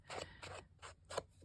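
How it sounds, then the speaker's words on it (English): Paper trimmer blade cutting through paper, four crisp slicing strokes in an even rhythm, close and moderately loud, with no talking. "Using the paper trimmer, sometimes it puts a little ridge because it's cutting down."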